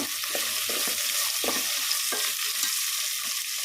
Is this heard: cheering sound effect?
no